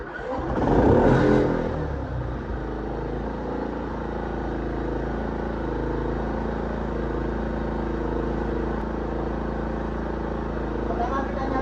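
A Tosita 4800iE inverter generator started by remote: a brief rising rush as the engine catches, then a steady, close mechanical hum running without a break to the end.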